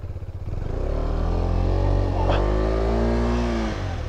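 A motorbike stuck deep in snow and mud revs hard and continuously, its engine note climbing and straining close by while people shout over it.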